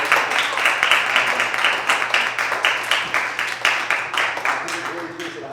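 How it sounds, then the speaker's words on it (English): An audience at a poetry slam and live art event in Aurora, Illinois applauds for Jalen. Dense, sustained clapping runs throughout, with voices and cheers mixed into the crowd noise. "I want to get like a round of applause for Jalen for putting an event like this on."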